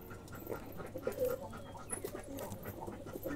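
Dheral wild pigeons murmur in low, repeated coos, close by, over a rustling background with faint panting-like breaths.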